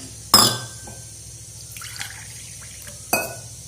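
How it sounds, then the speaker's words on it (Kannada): A glass of water splashes into a pressure cooker holding chopped bottle gourd and black-eyed beans, then a second lands about three seconds later, two sharp close pours with faint trickling and drips between and no voices. "ಇದಕ್ಕೆ ಎರಡು ಲೋಟದಷ್ಟು ನೀರು ಹಾಕ್ತೀನಿ"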